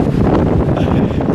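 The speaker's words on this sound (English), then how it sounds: "It's so cold, it's so windy." Strong wind on a volcano slope in Indonesia roars loudly across the microphone in a continuous, close buffeting rumble.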